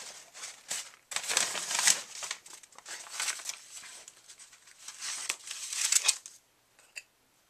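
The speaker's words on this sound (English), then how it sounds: "Let me get my scrap paper." Scrap paper handled at a craft table while making a shaped Christmas card, with close, crisp crinkling and rustling in uneven bursts, then a quiet pause and one last small rustle.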